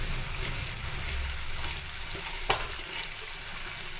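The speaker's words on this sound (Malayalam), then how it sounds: "അപ്പം നമുക്ക് തക്കാളി ഇട്ട് കൊടുക്കാം" Tomatoes go into a sizzling pan with tamarind and fish masala, giving a steady close frying crackle and hiss with a single sharp clink partway through.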